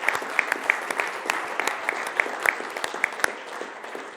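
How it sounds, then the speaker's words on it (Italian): Applause at a local volleyball club event honouring a family, steady crowd clapping with distinct individual claps standing out, moderately loud and without talk. "a cui farei un applauso a tutta la famiglia"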